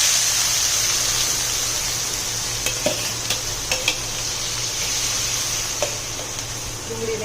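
Chopped onions sizzle steadily in two large spoonfuls of oil with cumin seeds and asafoetida as they fry toward pink. A few light utensil taps break through the constant close hiss.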